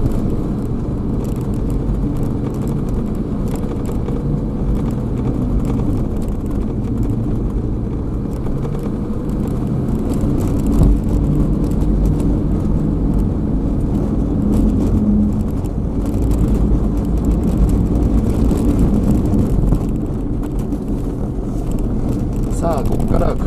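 A car in four-wheel drive on Chinese MAXTREK AUTOWAY studless winter tires on a snowy road, with a constant low engine drone and tire rumble throughout while someone talks over it.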